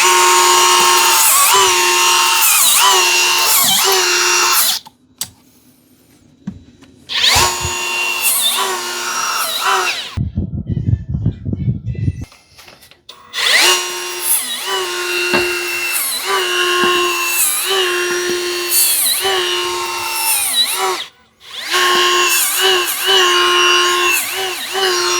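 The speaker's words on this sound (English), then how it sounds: "You just want to remove the rust. You don't want to remove any of the material from the rim." A rotary rust removal tool grinds against a rusty wheel rim in several loud, steady bursts, with short pauses between runs and no talking.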